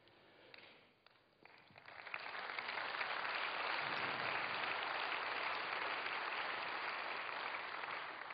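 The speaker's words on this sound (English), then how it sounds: "I'll let all of them know you applauded." Audience applauding after a talk at the re:publica 2011 conference, starting with scattered claps that swell after two seconds into steady, dense applause that holds to the end.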